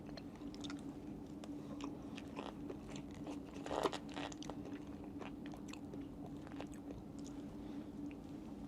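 Dry cake with icing from a Zootopia sweet shop aboard the Disney Treasure cruise ship is bitten and chewed close to the mic, with soft, steady crunchy chewing and one louder bite partway through, under a faint room hum.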